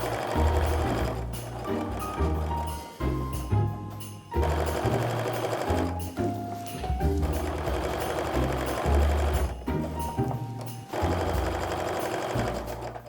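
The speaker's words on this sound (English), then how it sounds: "now we're going to put these through the sewing machine" A sewing machine stitches pieced fabric for a quilted mug rug, running in steady whirring bursts with a rhythmic mechanical chatter and brief stops between runs, close and loud with no talking.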